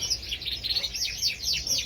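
Show birds in a breeding-season aviary chirp steadily, a dense run of high, quick repeated tweets, close and fairly loud, with no voices.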